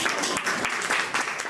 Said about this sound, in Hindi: एक बार अपने बच्चों के लिए जोरदार तालियां होनी चाहिए।